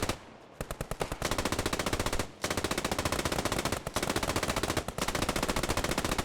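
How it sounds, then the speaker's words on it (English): Machine guns from two positions trading long, rapid bursts of fire in the Post Scriptum war game, loud and nearly continuous with a few brief pauses. "Two MGs just like firing endlessly at each other."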